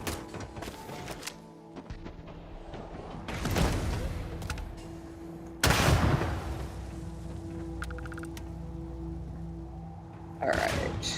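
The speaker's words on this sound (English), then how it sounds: "No, I hear lots more explosions" Video game combat with booming explosions and bursts of gunfire, loud impacts near 3.5, 5.7 and 10.5 seconds over a continuous rumble of mechanical noise and scattered crackles.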